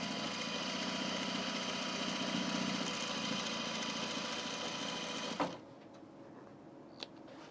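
A sewing machine stitches binding onto an unlined auburn blazer, humming steadily and close for about five seconds before stopping abruptly with a clunk, followed by near quiet and a small click.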